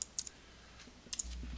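A computer keyboard gives a few faint, quick key taps and clicks in two small bursts, near and quiet against a low background hum, with no talk.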